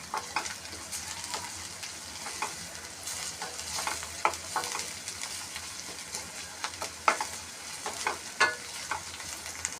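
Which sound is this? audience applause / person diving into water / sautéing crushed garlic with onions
sautéing crushed garlic with onions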